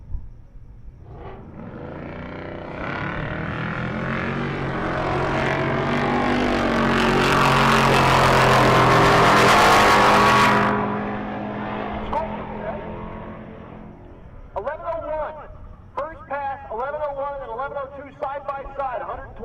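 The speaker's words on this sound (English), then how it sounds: "Thorpe, the supercharged LS Volvo." A supercharged LS-powered Volvo drag race car launches at Pueblo during Rocky Mountain Race Week 2023. Its roar builds to a loud, raw peak, then fades away into the distance as commentary voices follow.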